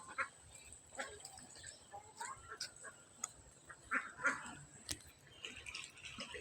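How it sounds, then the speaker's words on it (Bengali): Flock of ducks on floodwater in a rain-soaked village, with scattered quacks and honks rising at intervals over steady outdoor background noise, mostly moderate to faint. "আর এই যে দেখেন কত হাঁস, মনে হচ্ছে হাট বইছে হাঁসের, সব রাজা হাঁস।"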